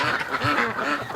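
Ducks quacking close by in a short burst of several overlapping calls, with Muscovy ducks among the flock as they are herded indoors in winter.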